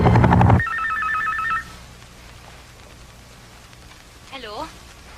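A cellphone rings with a short warbling electronic tone lasting about a second, right after a loud burst of voices and music, followed by quiet room tone and a brief chirp.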